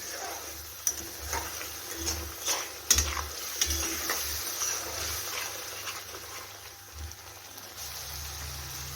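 A ground masala of coarsely crushed peas fries in released oil, giving a soft continuous sizzle with scattered taps and scrapes of stirring over a low background hum.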